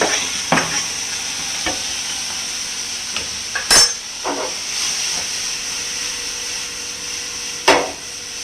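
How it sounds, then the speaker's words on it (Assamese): Onions and chillies sizzle in a pan of frying silkworm for a smoky Assamese dry fry, with a steady hiss broken by several sharp stirring scrapes and clatters close by. "তাৰপিছত আমি লাহেকৈ পিঁয়াজখিনি আৰু জলকীয়াখিনি দি দিম।"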